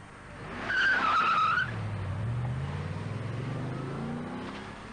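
A Tatra car with a 3.5-litre air-cooled V8 of 220 brake horsepower, mounted ahead of the rear axle, drives past with a short tyre squeal, then a steady engine drone that swells and carries on with no talking.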